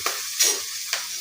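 Ingredients for khichuri frying in a pan, a steady close sizzle broken by three short scraping stirs of a spoon, with no talking.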